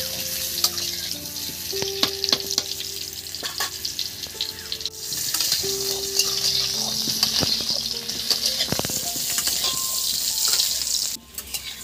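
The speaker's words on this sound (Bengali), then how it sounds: "এবার আমি লাল লাল করে আলুগুলো ভেজে নিয়েছি।" Potatoes frying in oil for a mutton curry, a steady close sizzle with scattered stirring clinks and background music tones underneath.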